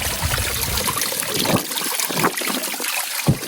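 A pond filter pump runs in a backyard pool converted to a fish pond, with water trickling and splashing steadily into the pool, a continuous close wash of flowing water and a few brighter splashy bursts.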